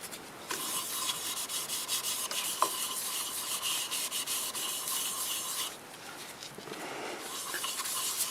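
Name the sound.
applying shellac-based sanding sealer to turned apple wood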